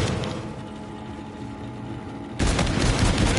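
Rapid automatic gunfire from a newly picked-up gun in Call of Duty: Infinite Warfare, a dense burst of shots that starts abruptly partway through after a stretch of quieter in-game noise.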